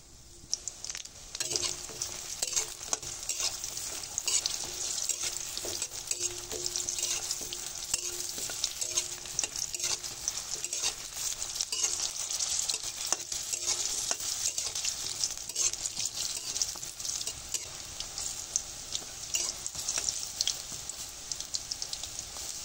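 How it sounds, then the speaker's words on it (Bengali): Soybean chunks and whole dried red chillies fry in hot oil in a wok, giving a dense, continuous close sizzle like heavy rain that holds evenly throughout with no voices. "এবারে দিয়ে দেবো গোটা শুকনো মরিচ আর সয়াবিন বড়াটা ভেজে নেব।"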